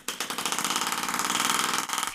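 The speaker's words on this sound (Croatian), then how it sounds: "Tlak se regulira, ali uzrokuje pulsiranje motora." A tiny 75-gram air-powered piston motor built for a model airplane runs with regulated pressure, giving a rapid, even chain of sharp pulsing chuffs, close and loud, with a brief stutter near the end.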